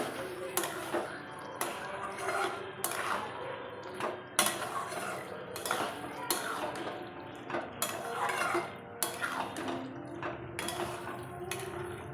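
A spoon clatters and scrapes in a pan as paneer is stirred into a mixed vegetable curry, irregular metallic knocks and scraping strokes repeating close by, with quiet background noise between.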